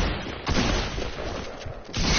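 AK rifle gunfire in the Apex Legends video game, a dense, loud burst of rapid shots that runs continuously for about two seconds with little break.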